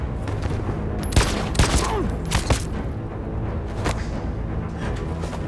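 Gunfire in the video game Detroit: Become Human, a burst of several sharp, loud shots in quick succession over a tense background score, with a few more reports following.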